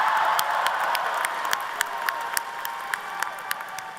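A convocation crowd cheers and applauds in a large venue, a broad wash of clapping and whoops with scattered sharp claps standing out, loud and sustained before slowly easing.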